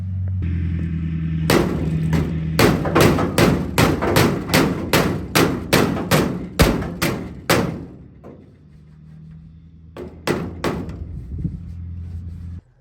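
Hammer pounding dents out of a homemade trailer's metal, a fast run of loud, close metallic blows over a low engine-like hum, then a pause and a few final strikes.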